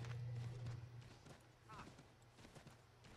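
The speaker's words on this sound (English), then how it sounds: "Time to grab a horse." A horse in the video game Assassin's Creed III clip-clops in quick, rhythmic hoofbeats as it is spurred into a gallop, with a low game hum beneath and a brief whinny-like tone in the middle.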